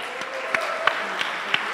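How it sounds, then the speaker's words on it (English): A few sharp, separate claps ring out in a large convention hall at a temples expo in Tirupati, spaced irregularly over a faint background hum rather than a full round of applause. "A big round of applause for them."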